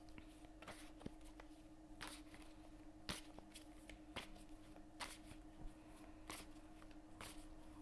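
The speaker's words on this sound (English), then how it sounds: "So I'm just going to shuffle the cards." A tarot card deck is shuffled by hand, heard as faint, quiet riffles and soft card slaps at irregular intervals, about a dozen crisp bursts over a steady low hum.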